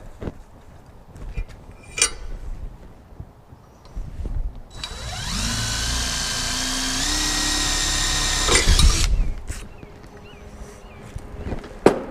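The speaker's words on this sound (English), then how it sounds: "I'm drilling my holes before I cut this piece out" A power drill whirs steadily for about four seconds drilling holes in a piece clamped in a vise, its pitch stepping up partway through, with clanks and light shop noise before and after.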